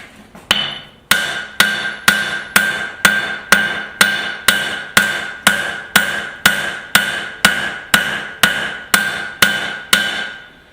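Sharp, ringing hammer blows strike scrap steel on an anvil as a knife blade is forged, about twenty evenly spaced loud impacts at a steady rhythm, each with a short metallic decay, close and without speech.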